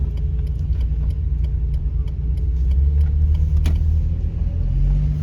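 Steady low engine rumble and road noise inside a Peugeot 205 1.6 Junior as it drives along, a continuous drone holding an even level throughout with no talk.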